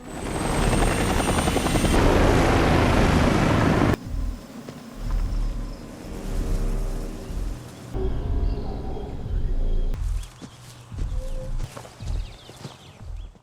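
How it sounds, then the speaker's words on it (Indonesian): Helicopter rotor noise roaring close, then shifting and thinning across several cuts as the aircraft moves off, with rhythmic thudding and rustling in the background. "ditandai dengan perginya helikopter yang membawa mereka"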